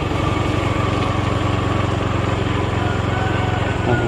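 A motorcycle engine runs steadily at idle on a rough, damaged farm road, with a constant close mechanical drone and no clear talk.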